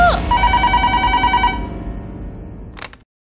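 A telephone rings indoors with a steady electronic tone for about a second and a half, then the sound thins into a quieter, muffled background before a brief burst near the end.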